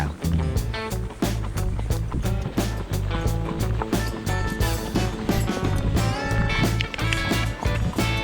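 A horse trotting on a hard, non-tarmac track, its hooves striking in a quick, regular rhythm, heard close and loud over a steady background of music.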